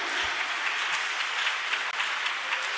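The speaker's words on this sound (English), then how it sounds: "Let somebody give the Lord a clap of praise" Church congregation clapping in praise to the Lord, a steady, dense wash of many hands clapping together without pause, moderately loud and without talk.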